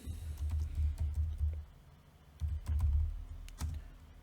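Typing code on a computer keyboard, quick close bursts of clattering keystrokes separated by a brief pause, with no talking.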